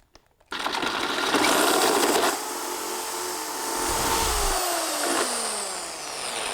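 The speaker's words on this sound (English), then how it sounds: "once we've got our hole drilled through the pot" Drill boring a hole through a plant pot for an upside-down tomato planter, starting abruptly with a steady loud whir that shifts pitch and strain partway through, close by and without speech.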